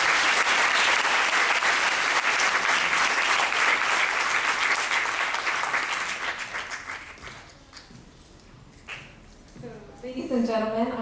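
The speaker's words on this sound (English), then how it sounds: "So please give her a huge round of applause" A large audience at a stage debut performance breaks into long, loud applause that swells and then gradually dies away, followed by a voice talking over a microphone at the end.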